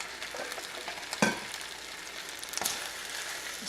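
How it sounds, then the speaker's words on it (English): Mushrooms, onions and garlic are stirred into risotto in a pan. A faint, steady sizzle continues throughout, broken by two brief scraping stirs. "Stir them up, give them a minute to heat back up in case they've cooled down in the bowl"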